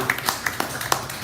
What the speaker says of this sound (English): clap for the city